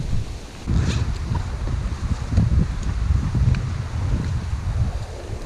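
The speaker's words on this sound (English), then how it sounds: "we're gonna have some really windy conditions" Strong wind on the Lake Erie shore near Port Glasgow buffets the microphone in loud, gusty rumbles, with waves washing behind it and the gusts rising and falling over several seconds.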